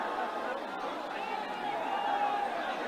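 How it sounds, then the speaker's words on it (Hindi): A large crowd of exam candidates gathered outside the Uttarakhand public service commission office, heard as a steady, dense babble of many voices at a constant level. "देखिए कितनी बड़ी भीड़ यहाँ पर अभ्यर्थियों की"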